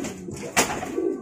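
A racing pigeon coos in a brief low burble close by, broken by a sharp clack partway through, with no voices.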